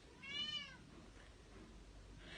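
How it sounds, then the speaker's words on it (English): A single short cat meow rises and falls once, fairly faint, during a book reading, followed by quiet background. "That's my cat meowing in the middle of this."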